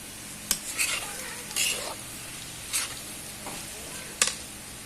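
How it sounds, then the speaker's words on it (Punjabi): A spoon scrapes and stirs dry potato sabzi in a pan, with a soft sizzle of frying underneath and a few sharp metallic taps against the pan's edge. "ਚੰਗੀ ਤਰ੍ਹਾਂ ਮਿਕਸ ਕਰ ਲਾਂਗੇ ਦੋ ਮਿੰਟ ਤੱਕ ਪਕਾਵਾਂਗੇ ਸਬਜ਼ੀ ਨੂੰ"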